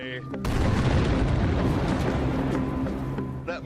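A sudden loud granite quarry blast opens into a long, rumbling roar of debris and echo that fills the scene before slowly tapering off.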